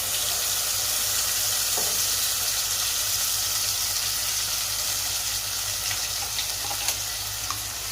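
Steady, dense sizzling of ground idli chutney paste frying in a hot pan, a continuous crackle with occasional soft stirring clinks, no voices.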